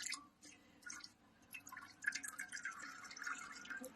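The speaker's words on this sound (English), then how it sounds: "once this drains, like I say, I'm going to shake a little bit of the grease off of it" Rendered lard grease drains from fresh cracklins in faint, scattered drips and small liquid trickles, quiet and close with no talk.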